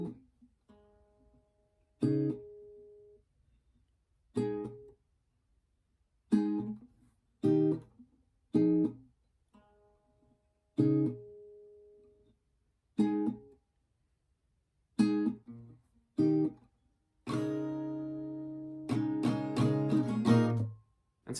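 Acoustic guitar strummed in short, choppy chords from the chorus, each quickly muted, with a rhythmic stop-start pattern that ends in fuller ringing strums.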